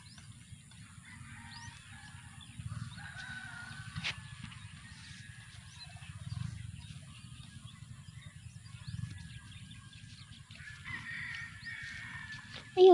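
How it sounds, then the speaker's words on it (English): Bird calling near a rice field being sprayed, several faint, scattered cawing or honking cries over a low, steady background rumble, with a sharp bump at the very end. "The bird."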